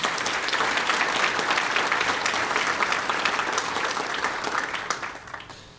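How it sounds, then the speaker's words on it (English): Audience applause at a city's State of the City address, a steady burst of dense clapping that fades out near the end. "Can you give them a round of applause?"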